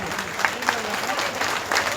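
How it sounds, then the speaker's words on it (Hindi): Applause from the crowd at a political gathering marking Dr. Syama Prasad Mookerjee's 125th birth anniversary in Sindri, a steady wash of clapping with a few sharper bursts, with voices faintly mixed in. "एक बार जोरदार तालियों के साथ आप सबका स्वागत करें।"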